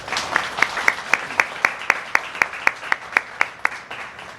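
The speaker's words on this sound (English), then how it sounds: "Let's have a warm round of applause for our hosts," A seated breakfast-meeting audience gives a round of applause for the event hosts, a thin, fairly even patter of claps that holds a steady rhythm for several seconds, close and clear with no speech over it.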